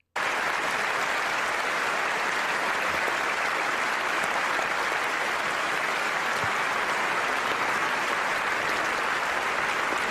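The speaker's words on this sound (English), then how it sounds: "I guess everybody is clapping for him, even the nuns" A debate audience, nuns among them, claps in a large hall, a thick, continuous wash of applause that holds steady and loud throughout.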